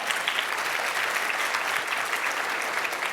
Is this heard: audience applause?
yes